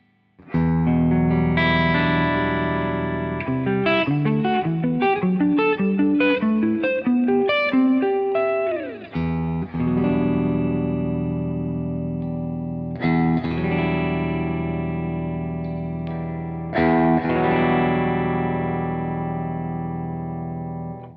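A PRS McCarty 594 Hollowbody II electric guitar with two humbucker pickups, through heavy distortion and effects, sustained chords and a climbing run of notes, loud and continuous with reverb tails.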